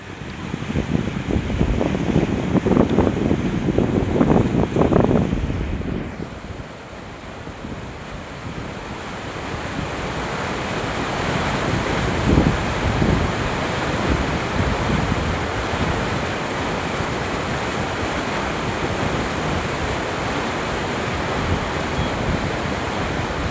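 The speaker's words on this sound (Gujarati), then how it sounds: "પારા ઉપરથી ઓવરફ્લો 9 ફૂટ જેટલું પાણી જાય દોસ્તો" The Madhuvanti river, swollen after heavy rain, pours about nine feet deep over a weir in a loud, steady roaring rush of water, with a gusty burst of wind noise early on and no talk.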